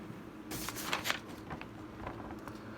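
A deck of cards for a football board game is shuffled by hand, giving soft, quick riffling flutters with a few louder snaps over faint background noise.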